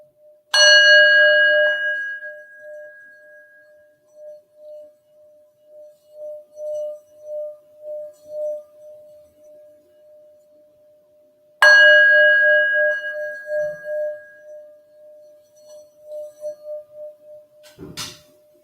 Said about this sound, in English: have some lovely Tibetan bell, which is relaxing and beautiful